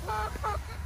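Chickens give two quick clucks up close, a brief soft burst of fowl calls at a backyard coop in the morning.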